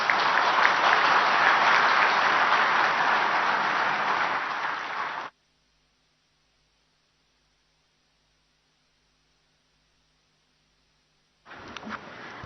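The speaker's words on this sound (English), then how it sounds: "Can we have a huge round of applause for the Honorable Chief Minister, sir?" A large audience at the opening ceremony of the 25th ICID Congress plenary in Visakhapatnam claps for the Chief Minister, a loud sustained round that fades slightly, cuts to silence, then briefly resumes near the end.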